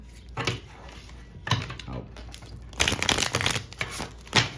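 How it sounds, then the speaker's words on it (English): Crystal healing cards are shuffled in a few bursts of crisp riffling and flicking, close and fairly loud, with short pauses between and a louder flurry near the end. "do a little shuffle, pull a card"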